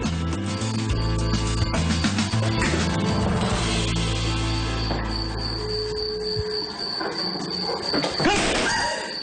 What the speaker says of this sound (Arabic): ما تسمعين صوت الصراصير؟